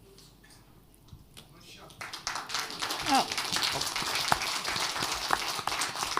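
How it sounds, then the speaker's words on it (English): Audience at a panel session on building a global anti-fascist movement breaks into scattered clapping that swells into steady applause, with a voice heard briefly at the start. "More applause later, please. A little early."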